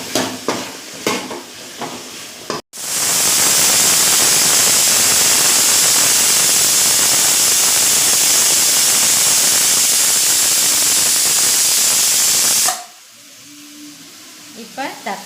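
Tomatoes and onions hit hot oil for a mutton curry, breaking into a loud, sustained close sizzle that runs about ten seconds before cutting off, with brief talk before and after.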